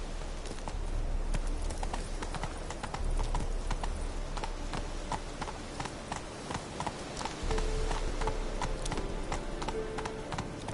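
Roach, the horse in the video game The Witcher 3, gallops in a steady, busy clip-clop of hooves that runs close and constant over a low rumble of game ambience, with no voices.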